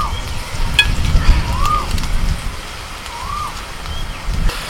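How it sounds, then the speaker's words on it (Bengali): Ginger, garlic and onion frying together for a chicken parts curry, a continuous loud sizzle and crackle with short squeaky stirring scrapes, no talking. "আদা রসুন পেঁয়াজ ভাজা হয়ে গেল, বেশ ভালো করে ভেজে নিয়েছে"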